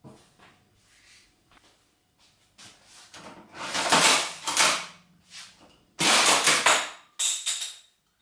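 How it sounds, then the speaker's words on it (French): A 3D-printed Lynx GM6 toy rifle is worked by hand, giving plastic clacks and sliding rattles, then several louder bursts as shell casings are ejected, with quiet gaps between. "ça éjecte des douilles"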